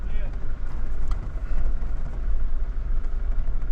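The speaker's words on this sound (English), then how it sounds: "Motorbike's coming up." A motorbike's engine rumbles steadily and grows slightly louder partway through as it approaches on a four-wheel-drive track, with voices talking over it.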